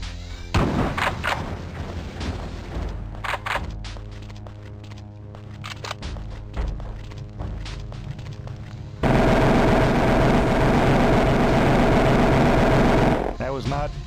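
Energy weapon gunfire rattles out in the Terminator Future Shock video game, with scattered sharp shots and booms during the first half, then a dense sustained burst of firing near the end, mixed with game noise.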